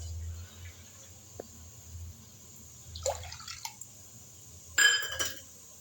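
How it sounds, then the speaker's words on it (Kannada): A quarter cup of water goes into a heavy-bottomed pan, the same one used to roast peanuts, to start sugar syrup for peanut katli. It comes as two short splashing bursts with faint clinks over a quiet low hum. "ಒಂದು 1/4 ಕಪ್ ನೀರು ಹಾಕೋತೀನಿ ಫ್ರೆಂಡ್ಸ್"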